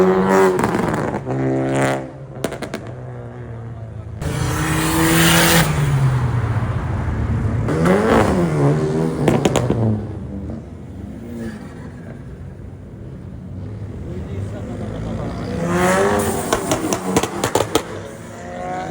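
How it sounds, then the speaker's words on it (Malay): Proton Wira car on a weekend night in Kuantan, its engine screaming through repeated loud revs and rising sweeps, with pauses and bursts of other engine noise between. "Dia menjerit kereta dia, menjerit."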